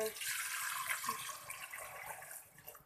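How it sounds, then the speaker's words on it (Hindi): Water pouring into a soup pot, about a litre going in during a hot and sour soup recipe: a steady splashing rush lasting a few seconds, close and moderately loud, tapering off at the end. "हम इसमें 1 लीटर पानी डाल देंगे"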